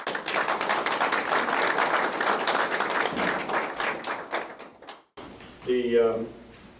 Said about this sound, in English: he really deserves his own round of applause